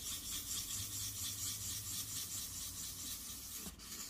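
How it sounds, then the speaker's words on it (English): A valve clearance shim from a Suzuki GSX-R 750 SRAD rubbed on sandpaper, a continuous rhythmic rasping scrub close by, fairly quiet and alone. "depending what sandpaper you have, it might take a while"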